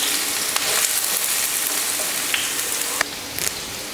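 Onions fry in about two ladles of hot oil for kothu parotta, giving a loud, steady sizzle with scattered crackles that swells briefly near the end. No one speaks.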